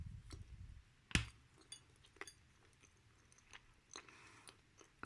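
Crisp bites and crunchy chewing of dry edible white clay from Bashkiria, up close, a sharp crack followed by scattered smaller crunches in a quiet room.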